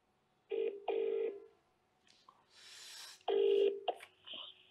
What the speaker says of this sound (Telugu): ఒకసారి అద్దంకి దయాకర్ కాల్ చేద్దాం.